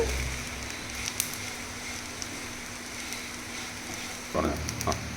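Garam masala, pepper powder and chilli powder are stirred through a hot pan for a Kerala fish dish, giving a soft sizzle with occasional spoon clinks and a louder scrape of stirring near the end.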